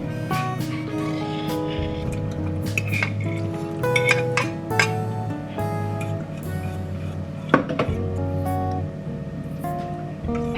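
A bowl of eggs, cheese, peppers, spinach and garlic butter is stirred with a utensil, producing irregular clinks and scrapes against the dish at close range, with no talking.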